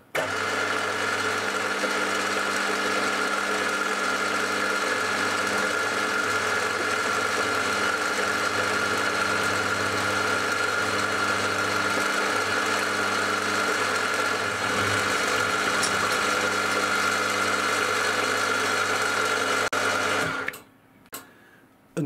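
A milling machine cutting the flat faces of a hexagon cover, a loud steady motor whine with a constant drone that runs unbroken for about twenty seconds, then stops abruptly, followed by a couple of faint knocks.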